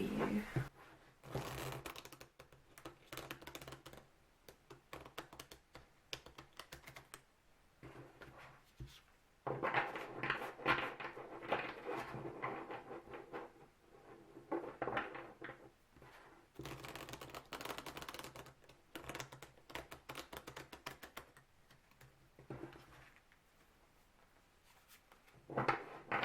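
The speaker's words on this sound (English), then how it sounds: "So let me shuffle this and see what comes through for you" A tarot deck being shuffled by hand, quick bursts of riffling and slapping card noise in repeated rounds, close and crisp, with short quiet gaps between rounds.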